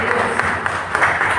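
Hand clapping from a church congregation during a Portuguese-language praise and worship service, a steady rattle of many palms kept up through the whole short moment, with voices mingling in the background.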